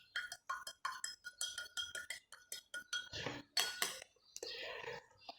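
A spoon clinks repeatedly against a drinking glass while stirring a spoonful of clay into water, in a quick series of light, close taps followed by a brief swirling rattle and softer scraping.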